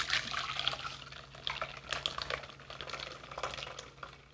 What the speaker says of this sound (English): I'm going to strain this poblano.